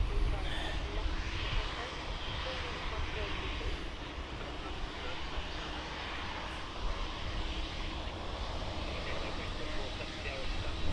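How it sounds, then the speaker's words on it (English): A Ryanair Boeing 737-800 takes off from Birmingham Airport bound for Verona, heard as a steady, broad roar of jet engines at a distance that holds level throughout. "We've got a Ryanair 737 800 going off to Verona"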